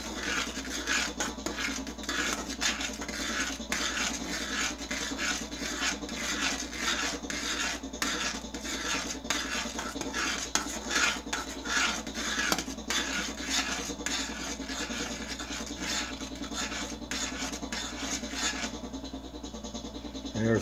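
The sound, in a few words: stirring fudge in a pot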